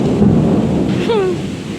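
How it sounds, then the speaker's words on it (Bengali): Steady hiss of light rain falling, with a brief tonal call rising out of the noise about halfway through. "এখন কি সুন্দর দেখো হালকা হালকা বৃষ্টি পড়ছে"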